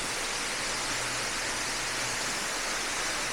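Henrhyd Falls, the biggest waterfall in South Wales, gives a steady broadband roar of falling water, constant and full throughout with no voices over it.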